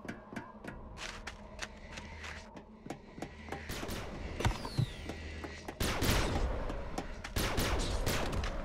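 Gunfire in the first-person shooter video game Bedlam, with sharp rapid shots and bursts over mechanical clanks and rumbling, becoming denser and louder in the second half.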